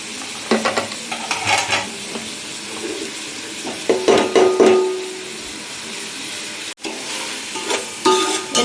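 Onions and green chillies stir-fry in hot oil for biryani, a continuous sizzle punctuated by repeated scrapes and knocks of a spatula against the pan, close and fairly loud with no talking.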